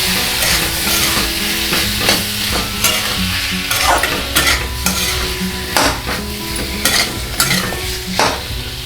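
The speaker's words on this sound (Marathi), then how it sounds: "आता आपण त्यात वांगे ॲड करूया मिक्स करून घ्यायचं" Eggplant pieces being stirred and fried in a pan for a Marathi vangyachi bhaji, with steady sizzling and repeated scraping spoon strokes throughout, close and fairly loud, no talking.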